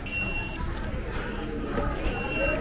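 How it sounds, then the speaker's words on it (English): A restaurant order-ready pager beeps at a Thai food spot in Berkeley, giving a high, steady electronic tone at the start and again near the end, with a busy, noisy room in between. "It's beeping."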